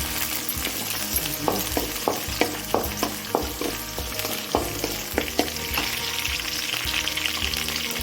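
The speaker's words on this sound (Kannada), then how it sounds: "ಬೆಳ್ಳುಳ್ಳಿ ಜಜ್ಜಿಗೆ ಫ್ರೈ ಮಾಡ್ತಾ ಇದ್ದೀನಿ" Crushed garlic fries in oil in a pan, a steady close sizzle broken by a run of sharp rhythmic stirring taps against the pan, with no voices.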